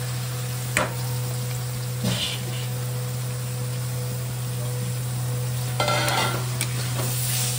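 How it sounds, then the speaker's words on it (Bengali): Mushrooms and potatoes tipped into a hot pan while cooking masala mushrooms, then stirred; soft scraping strokes at a few moments over a steady low hum and faint hiss. "এই যে মাশরুম আর আলু এবারে ঢেলে দিচ্ছি"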